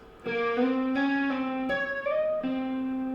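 A clean electric guitar plays a short tapped riff of sustained notes, each pitch sliding or hammering into the next, about five distinct notes over a few seconds.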